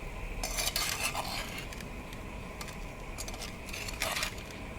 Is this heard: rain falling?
no